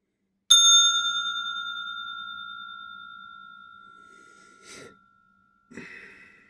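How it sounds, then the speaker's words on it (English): A single bright bell strike rings out, sustaining a long, slowly decaying tone, with soft breathing sounds near the end. "going to start this read with a bell just to clear the energy"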